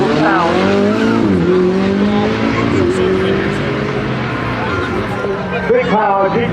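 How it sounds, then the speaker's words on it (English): A Porsche GT3 RS supercar launching hard at a supercar event, a loud, close engine note rising continuously for several seconds with tire noise and crowd sound beneath. "Big power, GT3 RS. He's going to give us a big launch in this one."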